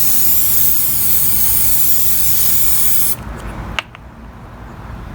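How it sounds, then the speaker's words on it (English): Lubricant sprayed from an aerosol can onto the chain of a Chicago Electric 1.5 HP electric pole saw: a steady, close hiss lasting about three seconds, then cutting off into quieter background with a faint click. "I'm just spraying some lubricant here."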